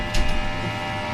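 A vacuum sealing machine packages hotdogs with a steady, loud electric hum, briefly swelling with an airy rush near the start, with no voices.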